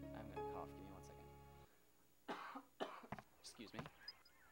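Soft tonal music cuts out, then after a brief silence someone nearby coughs and clears their throat in several rough bursts.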